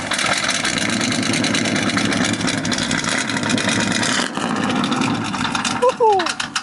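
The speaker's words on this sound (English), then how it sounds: "I won't rev it, but I'll let you hear the idle real quick. The idle is pretty sick, guys." A classic car engine idles steadily close by, a continuous loud rumbling drone with a slight uneven pulse, and a brief whoop of a voice near the end.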